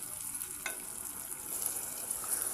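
Tomatoes and salt stirred into a frying brinjal and dried-fish curry, a faint steady sizzle with a single soft scrape of the spoon partway through, no voices.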